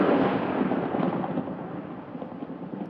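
Thunder rolls during a thunderstorm in a video game. A loud, deep rumble starts strong, then slowly fades and churns on without any talk.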